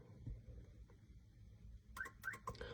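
A car alarm system gives short, sharp electronic chirps in quick succession near the end, after a quiet stretch of low background rumble; the beeps sound fairly faint and somewhat distant.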